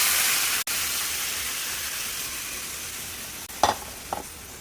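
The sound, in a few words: mutton stock added to frying spices and potatoes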